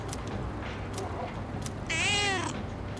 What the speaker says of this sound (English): Cat is purring loudly. It seems happy.